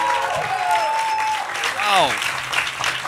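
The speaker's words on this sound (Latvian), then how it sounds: "Aplausu visiem, kas ir ieradušies!" An audience at a Lampa 2024 event in Latvia applauds steadily, with cheering voices rising over the clapping throughout.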